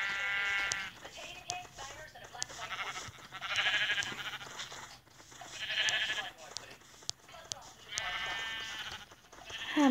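Sheep in the Minecraft video game bleat in several drawn-out, wavering calls spaced a couple of seconds apart, fairly faint, mixed with scattered clicks and a speaking voice.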